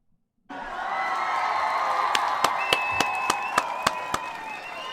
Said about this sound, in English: Let's give D. Cook a round of applause.